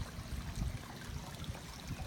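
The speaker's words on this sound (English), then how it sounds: "Water running pretty good." Water running steadily in a backyard swimming pool, a continuous low, soft rushing trickle that holds even and close throughout with no voices.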